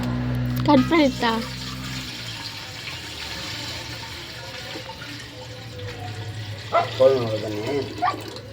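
Water pours into a clay pot during Pongal festival preparations, a steady splashing, filling flow heard up close. People speak briefly at the start and again near the end.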